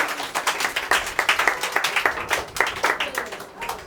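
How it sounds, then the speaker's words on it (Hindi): An audience claps throughout during a church Bible study gathering, dense overlapping handclaps at steady moderate loudness with some voices mixed in. "ताली बजाओ इन लोगों के लिए।"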